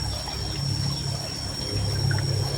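An overflowing river rushes in a steady, unbroken roar, loud and close, with no voices.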